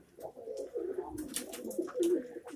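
Pigeons coo softly nearby in a coop, overlapping low throaty warbles in a steady murmur, with a few faint rustles in the background.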